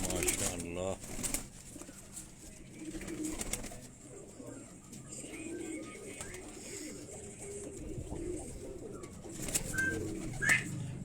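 Fancy pigeons, including a Chapra pigeon, coo in low, throaty bursts that repeat through the stretch, close by, with occasional flapping and a voice talking over them.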